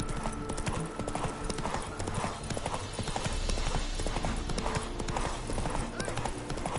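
Horse hooves pound in a steady galloping rhythm in The Witcher 3, the clip-clop loud and close throughout, with game music and ambience underneath.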